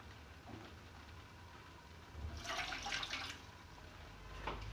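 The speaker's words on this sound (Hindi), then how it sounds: "ये देखिए 2 कप पानी डाल रही हूँ मैं।" Two cups of water are poured into a pan while making besan and suji halwa, a short, soft splashing pour over a low kitchen background.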